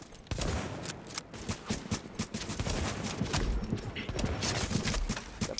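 Sniper fire and other gunfire ring out in The Division beta on Xbox One, as a dense run of repeated sharp shots and bursts, loud and continuous.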